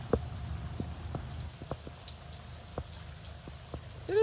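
Rain falls steadily outdoors on a morning walk, a soft continuous patter with scattered individual drops ticking on surfaces, faint and even, with no voices.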